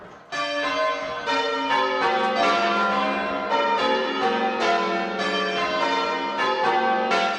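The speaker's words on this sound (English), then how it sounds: "St Margaret's oldest bell dates back to the 1300s" Church bells of St Margaret's in Bethersden, Kent, including one dating from the 1300s, ring out in a clear, loud sequence of overlapping strikes with long resonant tones, and no voices are heard.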